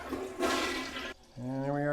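A newly installed toilet's tank refilling with water: a steady rushing hiss that cuts off abruptly partway, then someone speaks over the quieter remainder.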